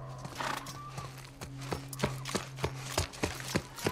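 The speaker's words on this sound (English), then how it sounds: "Stay with the horse." Horse hooves clip-clopping in a steady walking rhythm in The Last of Us video game, with a snort and a low, steady hum underneath, fairly close and moderately loud.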